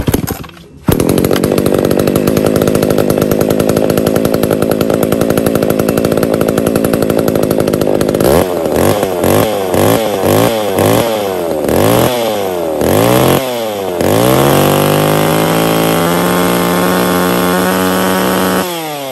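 A Makita E2835 gasoline chainsaw roars loudly and steadily, then revs up and down repeatedly in sharp bursts before settling into a high, strained whine.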